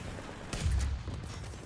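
Gunfire in the War Thunder tank game: a short burst of distant shots with a low booming impact, over a steady engine rumble.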